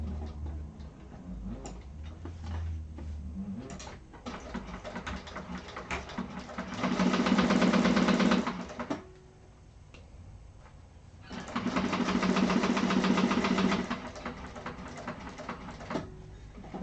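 A sewing machine stitches thin material for a wallet, starting with light ticking and clicking, then two loud sustained runs of rapid stitching separated by a pause, close and clear.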